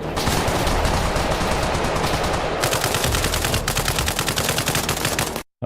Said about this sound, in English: I'm fairly certain all of the gunshot effects in this scene come from Arma 3 or Reforger